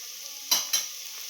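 Onions sauté in a pan for seeraga samba chicken biryani, with two quick, close stirring scrapes over a constant bright sizzle.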